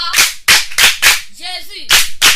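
An audience claps in rhythmic acclamation, sharp loud claps in a steady beat close by, briefly broken by a short vocal cry before the clapping resumes.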